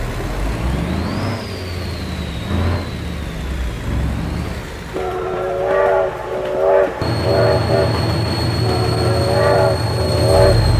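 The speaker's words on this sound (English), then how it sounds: "Oh my God, train!" A video-game train rolls past with a loud horn blast, a rumbling low clatter of cars and sustained tonal whistle layers that build toward the end, with no speech.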